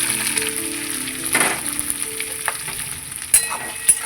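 Chopped onions tipped into hot oil already seasoned with cumin and bay leaves, a steady close sizzle with a brief burst as they land and a few stirring scrapes near the end.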